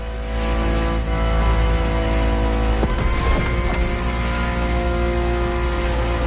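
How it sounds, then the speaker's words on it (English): Car engine heard from the cockpit in The Crew Motorfest on PS5, a loud, dense, steady drone with layered harmonics and brief shifts in pitch, no voices. "And the car's voice sounds even better from inside."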